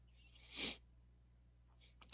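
A single quiet sneeze in a hushed room, followed by a faint short rustle and a sudden sound at the very end.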